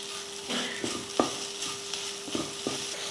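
Chicken frying in masala in a pan, a low sizzle with a few sharp spoon scrapes and taps against the pan as it is stirred, close and moderately loud.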